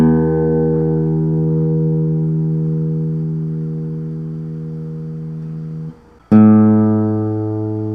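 Low E bass string of a Lumanog guitar is plucked and left to ring, a sustained, slowly fading tone lasting about six seconds before being struck again loudly and ringing on.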